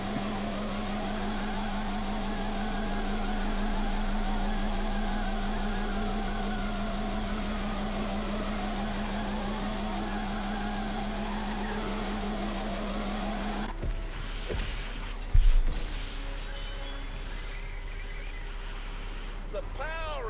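A Citroen car's engine drones steadily and loudly at close range. It then gives way to a different, quieter scene with a sharp thump, and voices can be heard.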